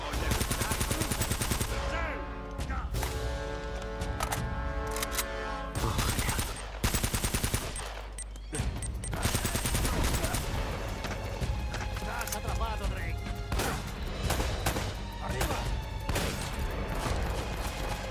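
Rapid bursts of gunfire crackle loudly and almost continuously in Uncharted: Drake's Fortune on PS4, layered with dense game sound effects and music.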